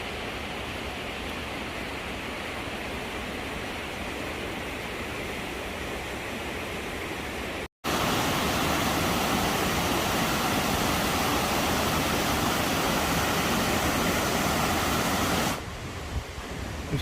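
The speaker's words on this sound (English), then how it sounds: "Just kind of in the distance there is the waterfall." A waterfall at Invermoriston, Scotland roars as a steady broadband rush, with a brief dropout and a slight dip near the end.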